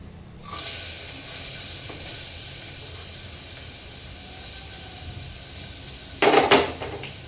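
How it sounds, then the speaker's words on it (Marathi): Chopped onion sautés with whole spices in hot oil for prawn rice, a steady close sizzle that holds throughout, with a brief clatter of utensils near the end. "कांदा पण छान परतून घ्यायचा आहे।"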